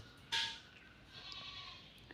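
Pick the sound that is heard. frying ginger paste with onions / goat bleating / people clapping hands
goat bleating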